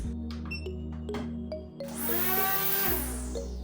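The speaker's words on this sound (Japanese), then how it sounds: "この R600 を使ってこちらの草刈り機を動かしてみます。" An electric brush cutter running off an ALLPOWERS R600 portable power station at an old country house spins up with a rising whine, then settles into a loud high-speed buzzing drone.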